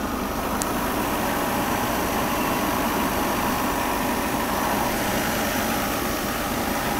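A freshly rebuilt Mercedes-Benz R129 300SL engine idles steadily and close by, a continuous even rumble with no change in speed throughout.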